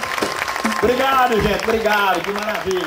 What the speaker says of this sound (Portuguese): E agora quem gostou, bate uma salva de palmas.